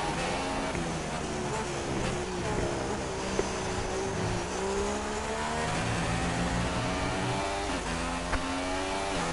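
Race cars roll through a formation lap of the Chinese Grand Prix in a racing video game, engines revving up and down in rising and falling pitch, with occasional faint tyre noise.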